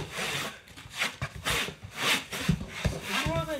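Wood being rubbed down by hand, a series of rough scraping strokes close up, some with faint voices or breaths mixed in.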